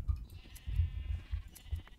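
Sheep bleat in a farm video game as they are attacked, a quick run of short, close bleats with muffled thumps, no talking over them.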